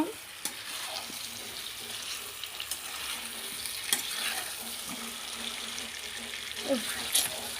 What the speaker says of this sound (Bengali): দেখতেই পাচ্ছ এখন চলছে চিকেন কষা